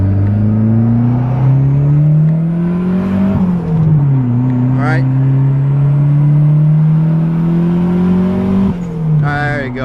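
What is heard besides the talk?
bunch of cars passing by on road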